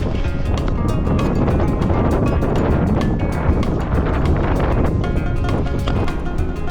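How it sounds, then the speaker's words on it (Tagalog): Strong headwind roars steadily across the microphone while traveling toward Roxas, Mindoro, a constant loud rushing buffet with no voices. "Sinasalubong namin ang malakas na hangin."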